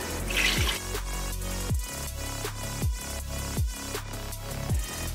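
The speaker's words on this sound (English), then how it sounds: "Okay, time to refill completely with the water." Water runs into a pot of chicken-feet bone broth to top it up, with steady liquid splashing and a series of sharp drip-like plops every second or so, close and moderately loud.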